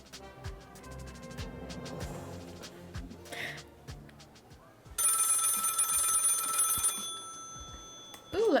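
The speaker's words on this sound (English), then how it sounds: "let's answer the phone" A telephone bell rings in a long, bright trill near the middle of a busy cartoon scene, following music and assorted effects.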